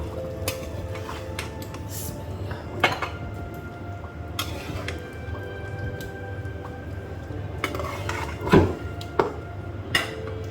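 Dishes and utensils clink and knock while chicken curry with potatoes is served, a few sharp clatters standing out over a steady low hum, with no talking.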